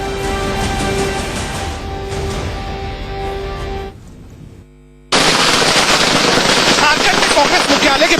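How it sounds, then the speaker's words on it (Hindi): Firecrackers set off outside the Congress party headquarters during a 2019 Jharkhand election victory celebration, a dense crackling barrage that drops out briefly and then returns louder and continuous, with a voice under the first part. "पटाखे जो है वो चलाए जा रहे हैं"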